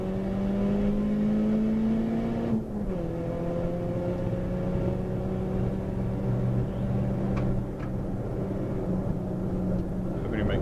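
A Nissan Sentra SSS race car engine drones steadily inside the cabin during a club race, its pitch holding, dipping once and then climbing again under continuous loud road and wind noise.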